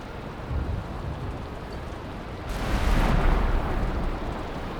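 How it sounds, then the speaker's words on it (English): Rain falls in the video game Valheim as a steady, broadband hiss that swells louder around the middle with a rumbling low end, continuous and without any voices. "Sounds like it's still raining"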